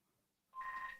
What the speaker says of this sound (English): that's the phone going off.